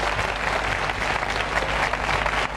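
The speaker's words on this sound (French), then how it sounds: "qu'on applaudit encore une fois" Sustained applause from a TV studio audience for cyclist Raymond Poulidor, steady dense clapping throughout with no break, loud and close.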